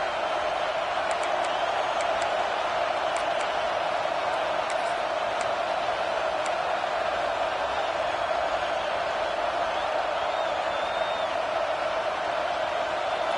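The stadium crowd at a USC vs. Texas A&M college football game roars loudly and without a break, a dense wall of noise that holds level for several seconds. Faint whistles and shouts cut through it now and then.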